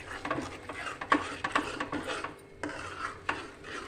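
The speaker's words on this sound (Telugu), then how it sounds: "తిప్పుకుంటూ ఉండాలి ఇలానే కలుపుకుంటూ ఉండాలి" Karachi halwa cooks with ghee in a pan while a spoon stirs it, giving repeated close scraping and rubbing strokes in an uneven rhythm. No talk.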